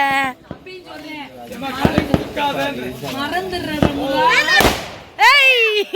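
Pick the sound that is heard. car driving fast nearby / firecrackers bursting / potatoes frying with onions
firecrackers bursting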